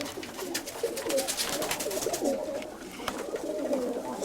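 Low rolling coos come from a moulting Sarakova pigeon, a steady murmur of repeated calls nearby with faint background noise.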